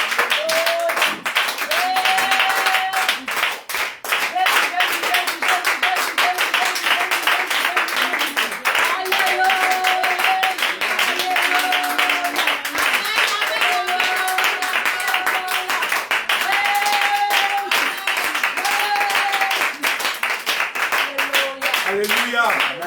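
A church congregation claps along at a Friday evening worship service, with steady rhythmic hand claps under amplified singing and voices raised in praise, filling the room at full volume throughout.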